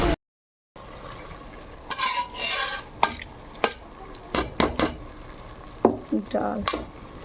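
Lentils poured into a cooking pan and stirred, with scraping, clattering strokes of a spoon against the pan in an irregular rhythm over a soft sizzle, close and fairly loud.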